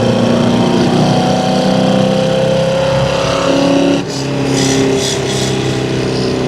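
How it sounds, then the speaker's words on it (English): A 1972 Chevrolet Chevelle with dual exhaust and mufflers drones steadily while driving, with a low continuous engine rumble that briefly dips then settles back at a loud, close level. "Really nice set of dual exhaust. Mufflers sound good."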